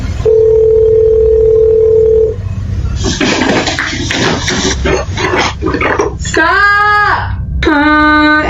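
A steady telephone dial tone hums alone for about two seconds, then gives way to rushing, noisy sounds and a couple of warbling electronic tones near the end, fairly loud throughout.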